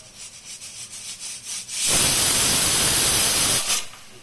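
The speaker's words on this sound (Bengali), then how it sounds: "এই যে সিটি পড়বে," A pressure cooker whistle releases a loud rush of hissing steam for about two seconds, then cuts off, following a quieter stretch of faint rhythmic puffs, while dal with drumsticks, bottle gourd and bitter gourd cooks.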